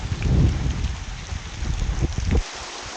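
Steady, loud rain pouring on a mountain hiking trail during descent in wet weather, with low rumbling underneath that eases off near the end.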